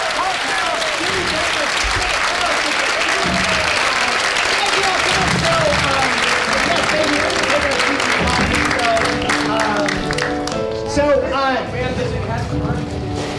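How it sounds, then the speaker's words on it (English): Sustained applause from a large crowd, loud and steady throughout, with cheering voices mixed in and clapping thinning slightly toward the end. "can we do a tremendous round of applause for all three of our guests?"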